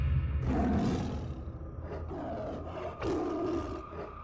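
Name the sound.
animal roaring loudly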